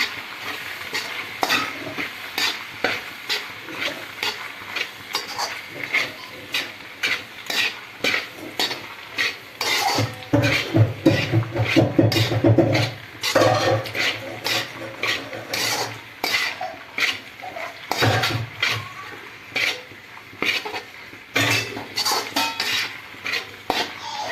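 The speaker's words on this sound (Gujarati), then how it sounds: "હવે આપણે પાસ્તાને સરસ આ રીતે મિક્સ કરી લેશું" Pasta is stirred and mixed in a sizzling pan for dhaba-style Gujarati pasta, with a steady run of utensil scrapes and clinks against the pan over frying sizzle. The stirring comes close and clear, with louder, busier scraping in the middle stretch.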